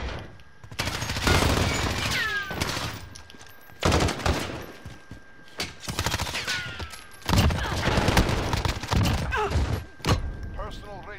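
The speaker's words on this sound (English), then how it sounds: "I'm pressing L2 as I'm having the gunfights" Gunfire in Modern Warfare, rapid bursts of automatic shots and loud cracks in repeated volleys across the whole stretch, close and dense, with a player talking throughout.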